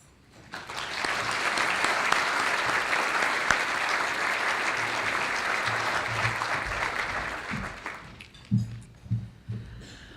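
An audience at a college alumni banquet breaks into sustained, even applause welcoming a speaker to the stage, thinning out toward the end as a few footsteps and rustles emerge.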